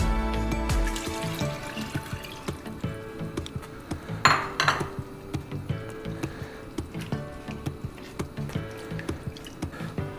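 Coconut second milk being stirred into a mutton stew in a pot, with soft liquid sloshing and light ladle clinks against the vessel throughout and a brief louder splash midway.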